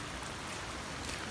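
Floodwater during thunderstorms bubbles and swirls over a submerged culvert, a steady, broad rushing wash like a fast stream, constant and fairly faint.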